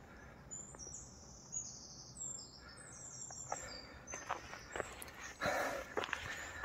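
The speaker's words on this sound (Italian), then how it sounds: "Solo il cinguettio degli uccelli" Birds chirp and tweet in short bursts against a quiet outdoor background, with faint rustling footsteps nearby.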